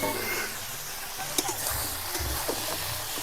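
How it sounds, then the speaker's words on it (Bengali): Cauliflower and potatoes fry in oil left over from frying katla fish, giving a soft, continuous sizzle with a few faint stirring clicks, close by and fairly quiet. "মাছ ভাজার তেলে এবার ফুলকপি আলুগুলো ভেজে নেব।"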